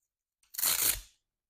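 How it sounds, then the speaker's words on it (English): A Velcro strap on a heavy-duty garage wrap for extension cords is pulled open in one quick, close, rasping rip lasting about half a second in an otherwise silent room. "all I got to do is unwrap the Velcro here"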